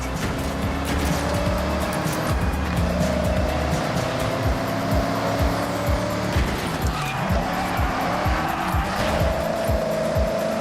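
A Plymouth Barracuda with its 426 Hemi engine drives in Forza Horizon 6, a loud, steady engine drone with rising and falling harmonics as it accelerates and shifts, with brief tire noise. No one speaks.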